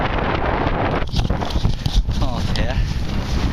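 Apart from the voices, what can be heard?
wind noise on microphone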